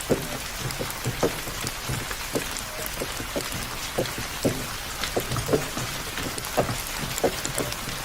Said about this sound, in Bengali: প্রায় 1 ঘন্টা ধরে বৃষ্টি হচ্ছে, বৃষ্টি থামার কোনো লক্ষণই দেখছি না।